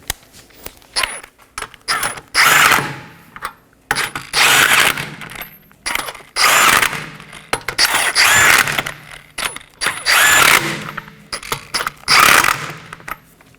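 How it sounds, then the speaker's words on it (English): Rear ABS wheel speed sensor bolts are snugged down in a crisscross pattern on a 2015-2023 Nissan Maxima. A ratchet clicks sharply in repeated bursts of rapid metallic ticking, close and loud, separated by brief pauses and small clinks. "Now I'm going to snug these down in a crisscross pattern."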